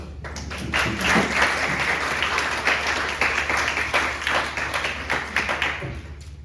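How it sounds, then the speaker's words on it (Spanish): Audience applause at an academic talk on argumentation: a steady, dense bed of many hands clapping, fairly loud and close throughout, over a low constant room hum. "Y los aplausos."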